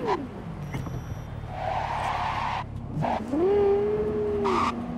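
A Rayfield Caliburn car in a video game braking hard from full speed, with tires squealing in a long rising and falling screech over the engine's steady drone.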